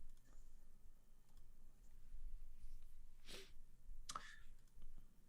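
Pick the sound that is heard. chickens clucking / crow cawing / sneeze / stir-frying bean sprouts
sneeze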